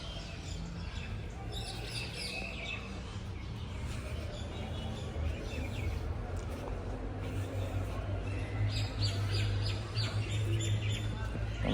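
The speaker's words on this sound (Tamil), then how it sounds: "பாருங்க புறா மேலே" Pigeons at Papanasam Sivan Temple coo and flutter, and scattered chirps and bird calls sound over a steady outdoor hum. Faint voices murmur in the background now and then.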